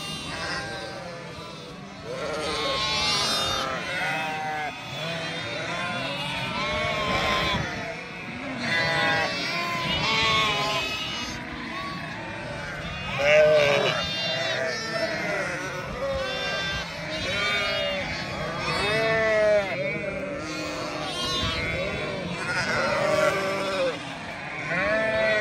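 A flock of lambs and sheep bleats constantly on a farm, many overlapping calls near and far forming a busy chorus for the whole stretch, with occasional voices mixed in.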